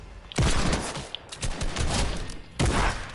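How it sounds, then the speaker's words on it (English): Sniper fire in a PS4 online shooter: three loud, sharp broadband cracks, the first two about a second apart with a longer gap before the third, over a busy game soundscape. "Somebody's sniping at me."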